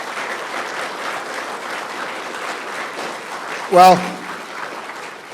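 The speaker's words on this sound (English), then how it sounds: "give him a big round of applause for that" A crowd applauds Captain David A. Christian at a hero's welcome home event, dense sustained clapping throughout, with someone briefly speaking over it near the end.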